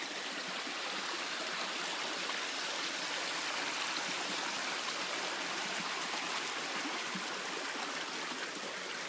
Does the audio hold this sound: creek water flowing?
yes